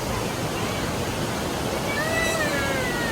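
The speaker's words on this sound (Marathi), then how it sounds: "आता असं एकदम आवाज करून वाहतंय पाणी" Snoqualmie Falls roars after rain, a dense, steady rush of heavy water filling the scene, with a faint whistling tone rising over it toward the end.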